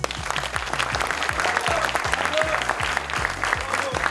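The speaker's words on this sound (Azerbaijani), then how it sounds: "Gəlin bu heyəti alqışlayaq." A studio audience at a comedy show gives the crew a warm round of applause, the clapping loud and continuous over a steady rhythmic musical beat.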